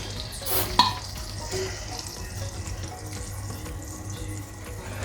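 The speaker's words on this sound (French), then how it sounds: "Et je vais y ajouter de l'huile pour faire revenir un peu la viande." Meat browning in hot red oil in a cooking pot, a steady close sizzle with a splash and stirring near the start, continuing without speech.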